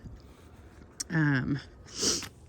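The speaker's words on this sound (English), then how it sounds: "So you hear me sniffle." A quick nasal sniffle from allergies, followed by a brief voiced snort-like sound and another breathy sniff, close to the mic, outdoors in a garden.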